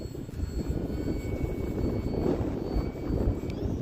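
Durafly Tundra V2 RC plane flying in gusty wind, its electric motor droning steadily and fairly loud throughout, with heavy wind buffeting blended into the hum.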